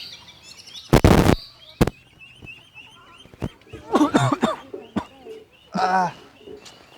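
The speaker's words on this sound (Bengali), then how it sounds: "কাশি আছে গা সমস্যা নেই নতুন নতুন এরকম হয়" A person coughs in harsh bursts during a Bengali village scene of someone trying a smoke for the first time, with scattered voices and other noises around.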